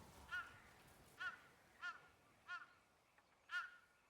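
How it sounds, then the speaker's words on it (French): A crow in the Ghost of Yōtei game caws five times at a distance, its calls spaced roughly half a second to a second apart against a quiet background. "Un corbeau. Il est très bavard."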